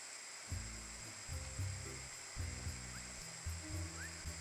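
Water boils in a pot with a constant rushing roar, low bubbling thumps pulsing irregularly underneath, as meatballs go in.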